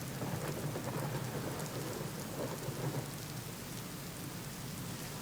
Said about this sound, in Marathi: नाशिकमध्ये मुसळधार सुरू आहे